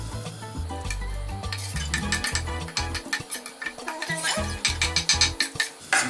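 Garlic sautéing in extra virgin olive oil in a pan, with a steady sizzle under repeated scraping and stirring clatter of a utensil against the pan, close and moderately loud, no talking.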